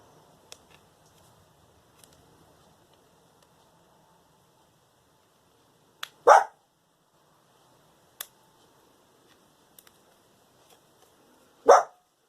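Two short, sharp yaps from a small dog, several seconds apart, with faint clicks and tapping in a quiet room between them.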